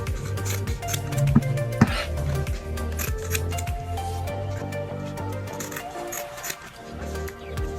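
Scissors trim the fabric waistband of a basic skirt in a series of close, crisp snips, with light clinks and rustling between cuts.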